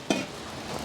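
Fenugreek seeds hit hot oil in a pan on a village kitchen fire, giving a brief sizzle burst near the start that settles into a steady, soft frying hiss.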